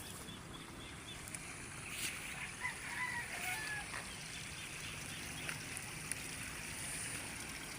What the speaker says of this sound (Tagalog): Yun nga lang, malakas pa rin ng agos.